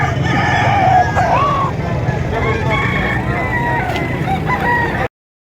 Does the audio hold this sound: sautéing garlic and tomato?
no